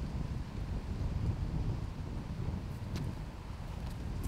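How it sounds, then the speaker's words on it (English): Steady, broad wind rush and gusting buffet the microphone outdoors on a disc golf course during a professional tournament round, loud and continuous with no voices. "And you hear that wind picking up"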